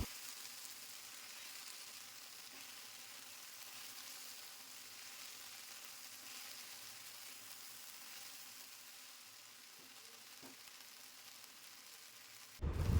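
Okra fries in a pan with chopped onion and garlic, giving a steady, faint sizzling hiss that continues evenly before a sudden loud knock at the end.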